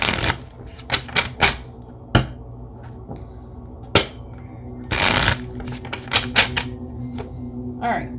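Tarot cards are shuffled in a series of crisp riffling bursts and taps at close range, irregularly spaced across the stretch, with a brief spoken word near the start.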